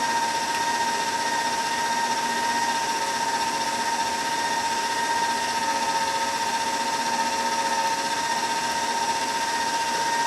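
An old, rickety stand mixer runs steadily while eggs are added slowly to a paste in a restaurant kitchen, giving a continuous whining motor hum with a constant pitch, fairly loud, with no talk.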